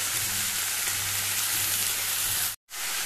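Methi greens sizzling in a pan on a gas stove for Goan-style bhaji, a steady loud hiss of frying that holds evenly, cut by one brief silent gap near the end.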